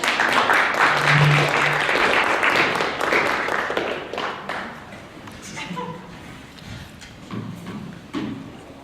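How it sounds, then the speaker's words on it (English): A church congregation applauds for Ashley after a sermon scene, a brief round of clapping that starts loud and thins out over several seconds, with voices and speech mixing in as it fades. "Round of applause for Ashley."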